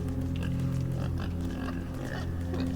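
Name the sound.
pig grunting, from the video game Inside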